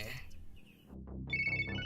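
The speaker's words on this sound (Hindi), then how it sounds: "कहीं तो सुना हुआ है ये रिंगटोन मैंने।" A mobile phone ringtone plays a bright repeating electronic melody, fairly close, with a voice talking briefly over its start.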